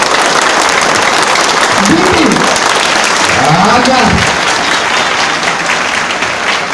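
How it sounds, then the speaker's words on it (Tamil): A crowd claps loudly and steadily at a motivational speech event in a Chennai silk store hall, dense sustained applause filling the space while a voice briefly rises above it. "இங்க உண்மையிலே நல்லா கைத்தட்டல்"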